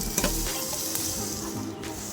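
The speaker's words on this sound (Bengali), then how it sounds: "আলুটাকে আমরা পাঁচ মিনিটের মতো কড়াইয়ে ভেজে নেব" A spiced potato mixture fries in a wok with a dense, continuous sizzle, near and fairly loud. Soft stirring scrapes sound under it over a couple of seconds, with no talk.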